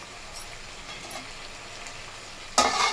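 Bottle gourd and drumsticks frying in a pan with tomatoes, turmeric and ginger-garlic paste make a faint, quiet sizzle that swells into a sudden louder hiss near the end.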